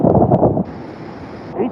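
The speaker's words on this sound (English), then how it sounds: "Each surge, each wind surge is getting worse." Hurricane wind gusts lash Santa Cruz, Jamaica, a few miles from the eye wall. A heavy buffeting rumble against the microphone gives way to a steady roaring hiss, with no one speaking.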